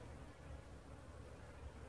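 A steady, close drone of honeybees swarms around their hive entrance as foragers carry pollen in on a spring day, the buzzing continuous and even throughout.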